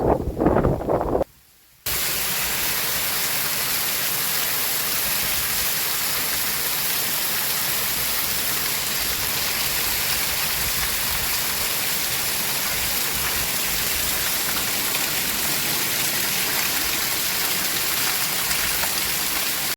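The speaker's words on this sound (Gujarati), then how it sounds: "રાતે ત્રણ સાડા ત્રણ વરસાદ આવ્યો" Steady, dense hiss of heavy rain falling without a break in the middle of the night, preceded by a brief moment of near silence at the start.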